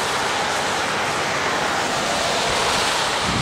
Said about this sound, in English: That's the Big Thompson River.